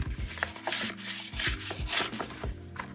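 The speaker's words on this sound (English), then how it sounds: "I'm gonna hold this side so that I'm kind of forcing the flap open" Paper envelopes rub and scrape as their flaps are forced open by hand, repeated close dry rustling strokes in quick bursts with no voices.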